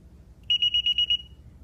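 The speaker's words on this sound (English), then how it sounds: "However, it does beep when you disarm it." Six short, evenly spaced electronic beeps from a burglar alarm keypad being disarmed, clear and close, ringing out over a quiet room hum.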